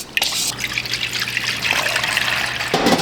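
Water runs steadily into a food service tray set up as a water bath for baking a maple-sweetened milk colostrum custard, a continuous close trickle and splash lasting throughout with a deeper gurgle near the end.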